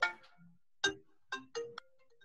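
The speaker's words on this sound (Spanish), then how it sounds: "Perdón que me están llamando por teléfono y yo me olvidé de apagarlo." A mobile phone rings during a law lecture, sounding a melodic ringtone in four distinct bursts spaced through the clip, fairly close and clear with no talk over it.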